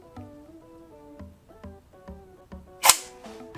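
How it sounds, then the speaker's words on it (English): A steel MP40 airsoft gun from an SRC luxury limited edition, its charging handle pulled back with a sharp metallic clack near the end, heard over soft repeating musical notes. "Now when you pull that back, it opens up your mock bolt and reveals your hop-up adjustment."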